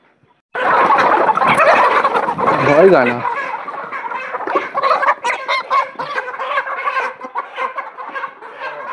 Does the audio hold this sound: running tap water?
no